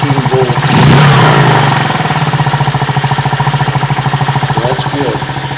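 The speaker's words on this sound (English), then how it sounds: "I'll rev it up and see if it increases." A 2023 Venom SS3 KP mini 150 motorcycle engine is revved up once near the start, rising to a loud, rough roar, then settling back to a steady, pulsing single-cylinder idle.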